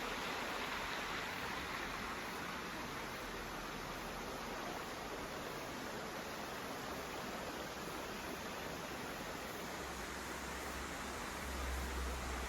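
A clear mountain stream rushes through Guryongsa valley on Chiaksan near Wonju, giving an even, continuous hiss of flowing water, soft and steady throughout with no talking.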